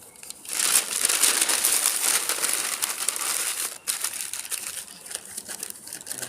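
A sheet of newspaper is crumpled by hand to start a coal forge, giving a close, continuous crackling crinkle for several seconds with a brief pause near the end.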